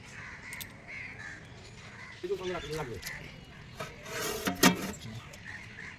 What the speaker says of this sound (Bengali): আর ওইখানটায় দেখো পাখিগুলো কি সুন্দর উঠছে